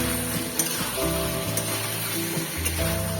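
Fried potatoes are tipped into the hot oil of a Bengali kosha chicken curry and stirred. A continuous close sizzle runs with a few soft stirring knocks, while sustained musical tones play underneath.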